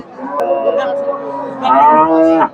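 A crossbred dairy cow lets out a long, loud, close moo that swells toward the end at the Chandaikona cattle market in Bangladesh.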